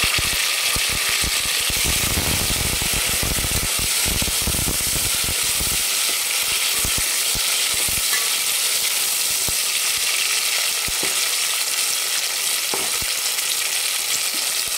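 Tomato and green chilli sizzle loudly in hot oil in a mutton biryani pan, a dense continuous frying hiss with scrapes and clatters of stirring through the first half, then steadier sizzling with occasional knocks.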